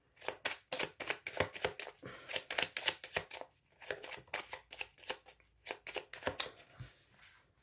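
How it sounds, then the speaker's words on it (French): A deck of oracle cards is shuffled by hand in repeated bursts of crisp riffling and flicking, quiet and close, with short pauses between rounds. "On a encore la carte des conflits qui a ressauté. Alors, je remélange."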